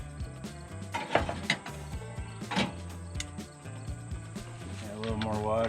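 Wood chips rattle and clatter as the wood box of a fish smoker is shaken, several uneven bursts of knocking close by, with a voice talking over them.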